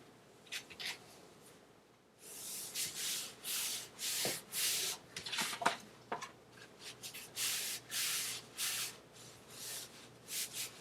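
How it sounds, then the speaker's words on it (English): Glued paper being burnished down by hand in book building, a series of soft rhythmic rubbing swishes close by, after a quiet start, with no talking. "I'm just burnishing this down with my hand."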